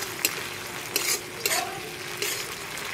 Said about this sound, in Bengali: এটিকে খুব ভালোভাবে নেড়ে নেব।